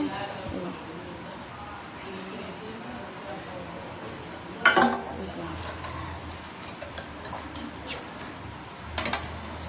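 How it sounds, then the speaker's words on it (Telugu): A spoon scrapes and clinks against a pot of boiling milk being stirred for bread rasmalai, with a few sharp clinks standing out over a steady background murmur. "ఇగోండి మళ్ళీ పొంగుతుంటే ఇట్లా తీసి కలుపుతూ ఉండాలి"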